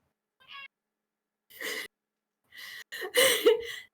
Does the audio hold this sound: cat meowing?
yes